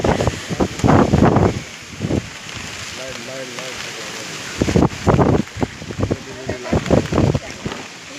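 Rain falls during a windstorm, a broad rushing wash of wind and rain under frequent talking from several people close by.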